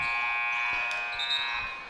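A loud, steady electronic scoreboard buzzer at a basketball game blares continuously, with a little crowd noise underneath.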